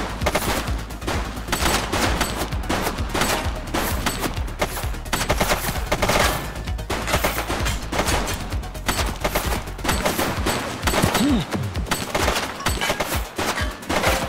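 Dense, continuous gunfire from The Precinct video game, rapid automatic bursts and volleys rattling loudly and without pause for the whole stretch.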